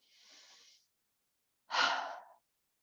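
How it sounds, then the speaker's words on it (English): Slow deep breathing during a gentle yoga exercise, with one long soft inhale and then a fuller, louder exhale after a short pause, close and quiet. "Breathe in, breathe out"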